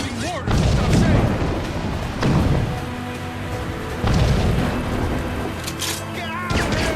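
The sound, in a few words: ship mortar fire in video game Assassin's Creed Rogue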